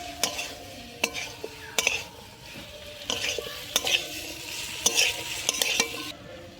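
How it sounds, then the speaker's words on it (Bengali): Peas, fried potato and cauliflower being stir-fried in spices in a pan, with repeated scraping stir strokes and a steady soft sizzle underneath, close and alone. "সবগুলোকে দিয়ে একবার ভালো করে কিছুক্ষণের জন্য কষে নিতে হবে।"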